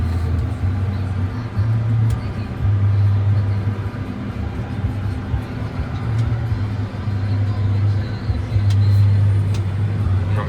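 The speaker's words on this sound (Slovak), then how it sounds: "Traktor sa nám sám otáča." A tractor in a farming video game turns on its own, its engine giving a steady low drone with swelling hum bands across the whole stretch, moderately loud and without voices.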